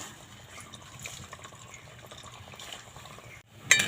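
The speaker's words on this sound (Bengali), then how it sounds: "কয়েকটা মিষ্টি হালকা করে ভেজে নেব তেলটা গরম হয়ে গেছে" Small semolina sweets fry in hot white oil with a soft, steady sizzle and bubbling that holds at low volume, then a brief louder splash near the end.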